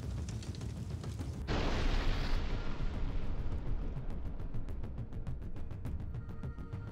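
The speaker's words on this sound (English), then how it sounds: "The epic explosion of the Ukrainian Armed Forces ammunition depot." A Ukrainian military ammunition depot explodes: a sudden broad roaring blast, followed by sustained rumbling and a rapid series of crackling secondary detonations, loud and continuous with no voices.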